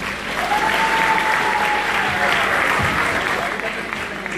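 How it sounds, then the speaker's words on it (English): Audience applause at a magic show, steady dense clapping from a crowd filling the whole stretch, loud and close, with a faint voice or whistle-like tone drifting through early on. "first give a big round of applause for the kids."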